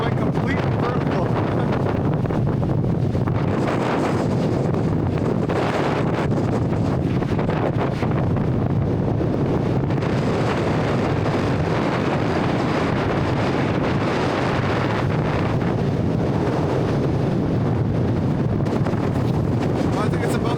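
Strong wind blows off a snowy mountain on a winter hike in Ontario, roaring and buffeting the microphone in steady, gusting waves throughout.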